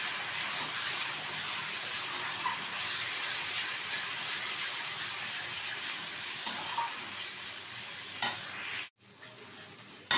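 A spoon stirs boiled moong dal in a hot pan, giving a steady close sizzle with soft scraping strokes that run continuously, then a brief pause and a sharp knock near the end; nobody speaks.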